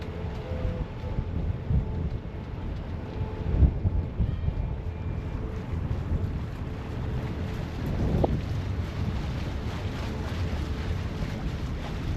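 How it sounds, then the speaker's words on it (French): Low, steady wind rumble across the mic on a boat in the canals of Sète, France, fairly quiet, with a faint hum and a couple of soft thuds in the distance. "Et par contre là il y a du vent."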